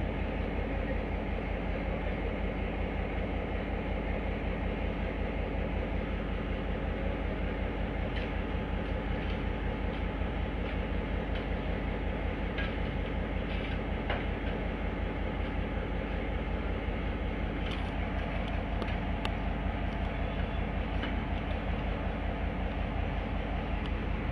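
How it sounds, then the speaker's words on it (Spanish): A derailed freight train wagon sits on the tracks at a street crossing, giving off a steady, dense low rumble with faint intermittent clanks, loud and continuous throughout with no talking. "estamos en Sarmiento y Necochea por este descarrilamiento de este vagón, de este tren carguero"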